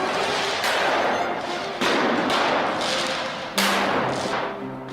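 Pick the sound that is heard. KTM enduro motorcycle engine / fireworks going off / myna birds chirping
fireworks going off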